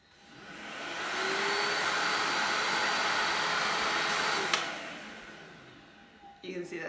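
Electrolux Well Q7 Animal cordless vacuum cleaner switching on, its motor rising to a steady whine, then winding down after a sharp click, close by.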